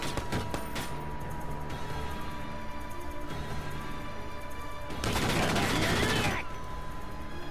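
Gunfire from Valkyria Chronicles 4, a tactical war video game: rapid volleys of shots crackle in bursts, ending in a louder, denser barrage, with a voice faintly speaking underneath.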